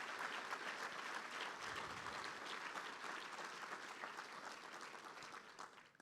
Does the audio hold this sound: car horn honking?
no